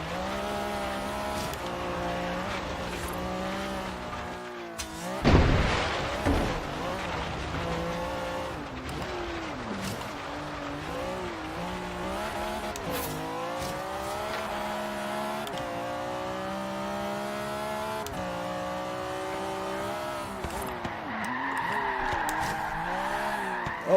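A 1965 Alfa Romeo Giulia TZ2 in Forza Horizon 3 howls through a corner, tires squealing and skidding in a sharp burst midway, while the engine revs rise and fall before and after.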